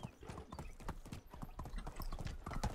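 Horse hooves clip-clop on the ground in the video game Medieval Dynasty, a quick, fairly regular rhythm of thudding steps that carries on throughout, heard close and fairly quiet.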